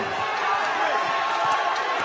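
A boxing crowd at the Chris Melhuish vs Vasile Cotelea bout roars in a loud, unbroken wash of cheering under a commentator's voice.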